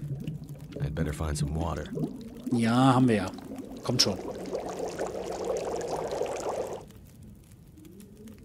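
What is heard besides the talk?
water being poured to boil in The Long Dark video game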